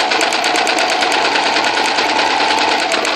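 A sewing machine stitches a 3/8-inch French seam, enclosing the seam allowance, as a fast, steady mechanical whir with rapid regular needle ticks that carry on without a break, close and loud.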